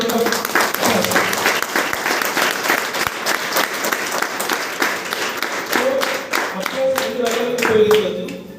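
Audience applause at a seminar talk, a long loud wash of many hands clapping together, with a voice speaking over the final seconds.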